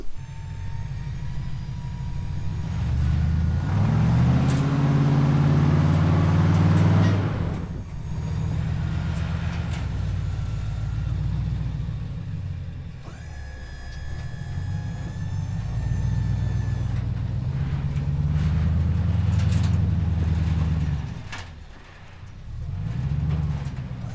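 The world's largest off-road wrecker truck pulls away, its big diesel engine droning loud and steady, with revs rising and falling as it drives off over rough ground, plus some clanks and squeaks.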